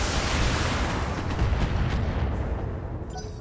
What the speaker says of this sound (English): Large laser and load of missiles.